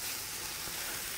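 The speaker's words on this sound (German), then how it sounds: "als nächstes wollen wir jetzt hier die Baconwürfel auslassen" Diced bacon sizzling and frying in a cast-iron Dutch oven lid used as a pan on a grill, a steady close crackle and hiss without pause.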